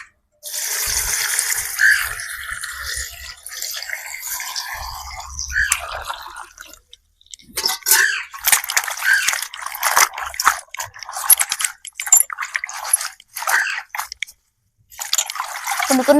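Gongura leaves being washed by hand in water, with splashing, trickling and dripping in bursts separated by short pauses, close and fairly loud.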